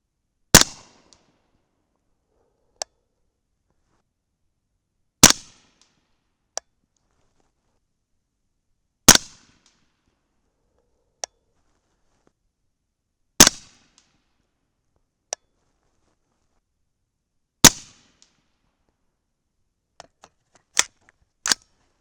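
A 300 Blackout rifle fires 225-grain Hornady BTHP Match subsonic rounds outdoors: five sharp, isolated shots spaced about four seconds apart, each a loud crack with a short tail, with faint clicks in between and a final cluster of small clicks.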